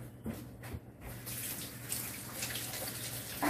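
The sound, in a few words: water running from a tap while rinsing hands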